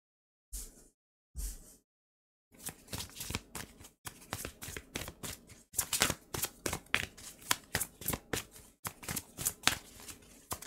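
Oracle cards from a sacred forest deck shuffled by hand, first two brief riffles, then a long run of rapid, close, papery flutters in steady bursts.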